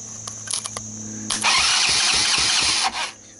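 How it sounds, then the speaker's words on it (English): The starter motor on a Honda TRX200SX ATV cranks when power is fed straight to it. A few light clicks come first, then a loud, close whirring crank of about a second and a half that stops sharply. "I'm putting power directly to the starter, and I know that my power is coming into the starting relay."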